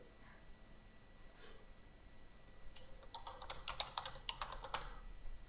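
A campaign title is typed on a computer keyboard in quick, faint clusters of key clicks, sparse at first and then a denser run of taps.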